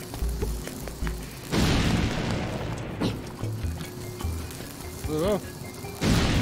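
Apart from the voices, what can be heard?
bombs blasting things in Zelda Link's Awakening video game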